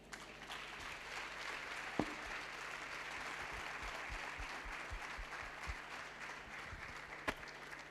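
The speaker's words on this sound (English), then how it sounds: "Keep clapping." An audience at a youth empowerment event claps continuously, a steady wash of mid-distance applause with a few sharper knocks and thumps, and no clear talk.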